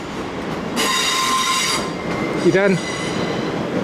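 A new South Western Railway Arterio train runs noisily, with a constant rumbling roar, a high whine for a stretch and a brief wheel squeal, while a voice speaks briefly.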